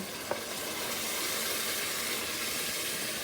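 Water poured into a hot pan of meat and vegetables while cooking Kyrgyz plov: one small click, then a steady, even sizzle and hiss of frying and steam that holds at a moderate level to the end.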